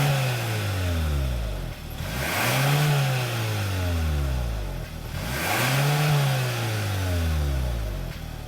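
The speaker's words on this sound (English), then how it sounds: "Let's go ahead and listen to the exhaust and see if it sounds any good." The 2.5-liter turbocharged engine of a Kia Sorento SX revs twice through its exhaust, each blip swelling from idle to a throaty peak and falling back, heard close and fairly loud with no talk.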